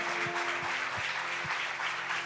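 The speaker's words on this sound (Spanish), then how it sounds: "¿por qué no le dan un aplauso al Señor bien fuerte?" Church congregation clapping in a steady broadband wash, with low thumps recurring about every half second, likely rhythmic clapping or a drum beat, and sustained musical tones underneath; moderately loud and continuous.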